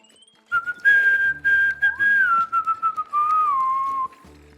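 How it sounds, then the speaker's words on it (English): A person whistles a tune solo, one clear sustained melodic line that wavers in pitch. It runs loud and close for about three and a half seconds with brief breaks between phrases. "I can whistle with the best of them"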